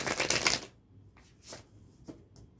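A Steampunk Tarot card deck is shuffled up close, a quick riffling burst followed by a few softer taps and slides of the cards.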